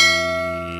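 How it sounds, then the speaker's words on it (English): A single bell strike rings out loud and clear at the close, its bright tone decaying smoothly with sustained overtones and nothing else heard alongside. "hit that bell"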